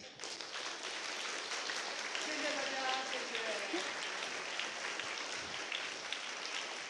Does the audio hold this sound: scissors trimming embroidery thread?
no